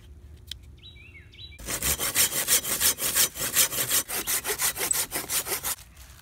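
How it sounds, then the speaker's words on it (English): A driftwood log being hand-sawn beside a pond: after a few faint bird chirps, a loud, steady back-and-forth rasp of saw strokes runs for about four seconds, then stops. "Alright, so I just started sawing,"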